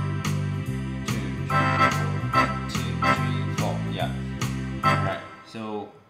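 A Yamaha PSR-X650 keyboard runs its big band swing rhythm style, a steady loop of bass notes and punchy accented hits in an even swing pulse, close and loud before it stops abruptly near the end.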